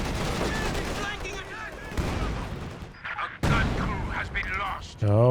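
Machine gun fire in a Company of Heroes 2 battle, including a German MG34, rattles through dense combat noise in a continuous crackle with surges and brief lulls, with a commentator talking over it.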